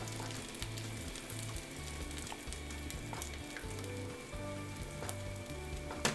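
Eggs sizzle and fry steadily in oil in a pan for an Italian frittata over low-to-medium heat, a continuous close crackling hiss with no talking.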